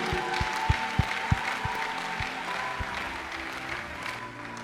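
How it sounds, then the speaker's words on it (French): A church congregation claps together in a steady, even rhythm for a few seconds, then it thins into scattered, looser applause under a low murmur. "Applaudissons pour Jésus-Christ"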